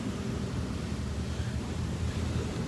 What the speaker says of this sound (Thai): เสียงลมก็น่ากลัว